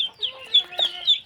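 Village chickens cluck in a few short, close bursts, a quick series of clipped calls in a quiet rural yard.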